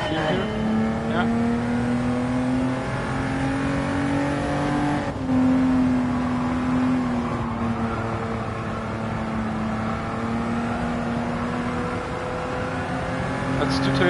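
Race car engines roar continuously in Gran Turismo 7 during a race with Toyotas, a loud sustained engine drone with gear shifts and revving, close and steady throughout.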